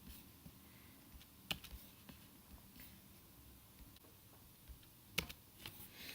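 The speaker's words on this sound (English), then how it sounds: "I have to go through and click enter on each one of these" Enter key presses on a computer keyboard, a few sharp isolated clicks spaced irregularly, close and fairly quiet against a faint background hum.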